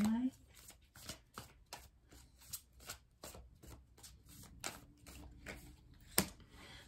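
Tarot cards shuffled by hand in quick, irregular riffles and taps, close and fairly quiet, with a few sharper snaps toward the end.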